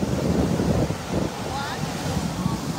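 Big sea waves surge and crash near the shore, a rough roar of water and wind buffeting close to the microphone, with voices talking over it.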